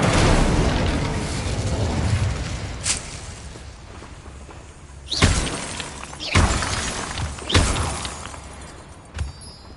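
Incendio fire spell cast repeatedly in Hogwarts Legacy, heard as several sharp bursts and crackling blasts over a rumbling game background, with about four distinct loud hits spaced a second or so apart.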